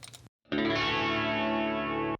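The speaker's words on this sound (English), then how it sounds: "I took that guitar strum, I reversed it, and then added a ton of reverb to it, and then reversed it again, and made a reverse swell reverb" A guitar strum, reversed and drenched in heavy reverb, forms a reverse swell: a dense, shimmering chordal wash rising in after a brief silence and sustaining loudly for nearly two seconds before cutting off.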